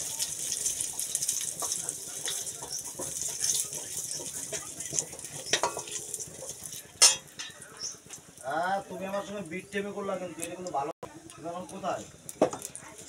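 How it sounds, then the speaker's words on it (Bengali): Mustard seeds sizzle and crackle in hot oil in a pan while a spoon stirs and scrapes, close and busy with intermittent clinks, and a person speaks over it in the latter half. "সর্ষেটাকে একটু ভেঙে দিচ্ছি এইভাবে নেড়ে।"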